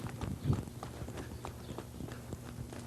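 A horse in a basic Western riding session trots in a circle, its hooves making a steady, fairly quiet clip-clop rhythm over a soft background.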